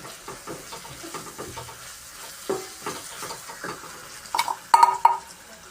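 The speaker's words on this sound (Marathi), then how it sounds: "तळलाय ठेचा, आता तेल टाकून घेते." Green chilli thecha fries in oil with a light sizzle under clinks and scrapes of a utensil against the pan, ending in a few sharp metallic taps.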